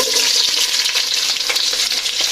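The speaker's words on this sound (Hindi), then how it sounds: "अब मैं इसमें प्याज डालने लगी हूँ।" Onions hitting oil left from browning seekh kababs for pulao, a loud, dense crackling sizzle that fills the short moment without pause, close up and alone.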